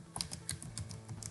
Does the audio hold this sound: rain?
no